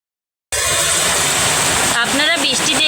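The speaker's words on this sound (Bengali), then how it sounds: "কি প্রবল বেগে বাইরে বৃষ্টি হচ্ছে" Heavy rain pours outside after a brief silence, a dense, loud, continuous rushing hiss that holds steady to the end, with a voice faintly audible near the close.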